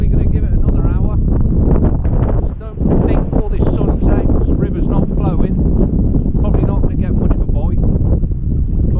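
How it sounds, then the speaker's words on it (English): Gusty wind buffets the microphone in loud, uneven surges while someone talks over it close by. "As you can see, it is proper gusting."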